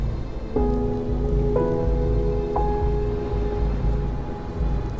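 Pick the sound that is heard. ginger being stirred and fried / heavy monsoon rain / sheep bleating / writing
heavy monsoon rain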